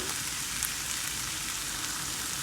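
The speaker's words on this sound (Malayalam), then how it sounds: "ഇത് ഒന്ന് ലൈറ്റായിട്ട് വതക്കി കൊടുക്കുക." Ingredients being lightly sautéed in a pan for dhaba-style tadka Maggi give a steady, soft sizzle with a faint crackle, continuous and fairly quiet throughout, with no talking.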